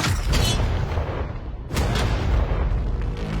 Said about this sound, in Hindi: पहला शॉट फायर करो